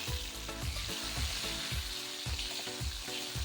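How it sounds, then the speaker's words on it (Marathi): Onions and tomato frying in oil for a Marathi avarya bean pod bhaji, a steady close sizzle with repeated low scraping strokes of stirring spaced about every half second. "तर आता यांना चांगल्या प्रकारे आपल्या तेलामध्ये तळू द्यायचं आहे"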